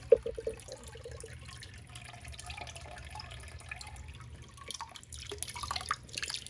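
Water drips and trickles out of a freshly watered Phalaenopsis orchid pot, faint close-up patters at an irregular rhythm over a low background hum, with no talking.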